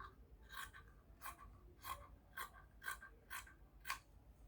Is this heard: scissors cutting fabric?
yes